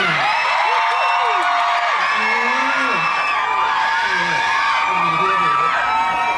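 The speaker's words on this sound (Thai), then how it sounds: "ขอเสียงกรี๊ดอีกสักรอบได้ไหม" A large crowd of fans at a fan meeting shrieks and screams continuously at high pitch, with overlapping shouts and cheers layered throughout, loud and sustained.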